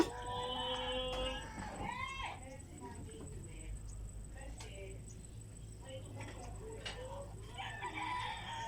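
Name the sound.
many birds at a fish drying area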